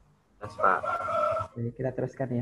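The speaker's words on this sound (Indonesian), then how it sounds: "masih ada suara burung berkokok tadi" A rooster crows loudly and close by, one long drawn-out call with a strained rising and falling tone, and people then speak over the tail end of it.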